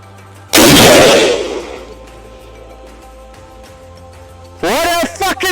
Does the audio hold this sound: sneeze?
no